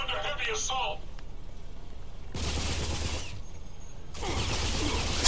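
Gunfire in the video game Rage comes as two dense, sustained bursts of rapid shots, loud and close, with a voice talking at the start.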